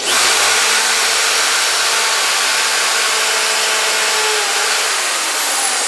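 A power drill whines steadily and loudly as it bores into wood, a continuous high grinding whir lasting several seconds with no voices.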